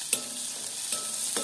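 Onion, garlic and chili frying in a pan as they are stirred: a soft, steady sizzle broken by three brief scraping strokes, fairly quiet, with no voices.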